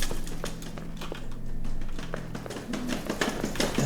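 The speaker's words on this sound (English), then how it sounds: "That's a lot of weird window tapping." Irregular light taps against a window in a PSX-style horror video game, scattered short clicks over a low droning ambient hum, with a few louder raps near the end.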